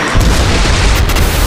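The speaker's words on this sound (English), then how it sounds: "It's an explosion so big, people nearby think it's an earthquake" A house blows apart in a massive explosion during a firefighter training exercise, one close, loud, dense blast with a heavy low rumble filling the whole moment.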